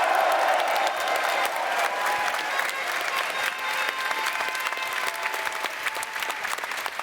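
A large esports crowd at a Rainbow Six Siege Berlin Major grand final claps and cheers, a dense, steady wall of applause that holds loud and continuous throughout.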